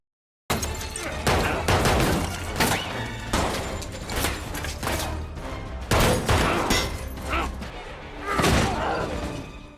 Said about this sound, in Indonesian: Pria itu pun menembak, namun malah mengenai penjaga tadi. Dan akhirnya pertempuran pun terjadi.